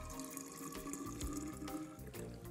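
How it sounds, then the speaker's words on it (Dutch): Water runs into a large jug holding a little lemonade syrup, making a steady splashing pour that stays fairly faint throughout. "Daar doe ik dan flink wat water bij."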